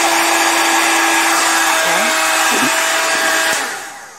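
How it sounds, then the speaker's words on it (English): Embossing heat tool blowing hot air, a loud steady broadband whoosh with a constant motor hum that runs close and unbroken for about three and a half seconds, then fades out as the tool is switched off. "you should allow your embossing tool or heat tool to get warm"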